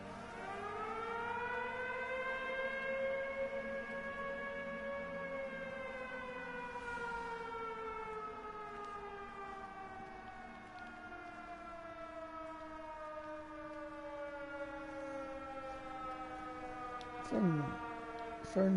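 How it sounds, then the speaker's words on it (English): A long wailing air raid siren in the video game Everybody's Gone to the Rapture, coming from a windmill, slowly falling in pitch, distant and steady, fading near the end. "Sounds like the air raid sirens coming from the windmill."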